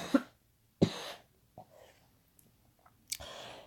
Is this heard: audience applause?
no